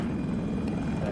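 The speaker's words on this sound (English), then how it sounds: "They have a self chopper up." A helicopter in the video game Battlefield 2042 gives off a loud, steady rotor drone that holds at one level throughout, with no voices over it.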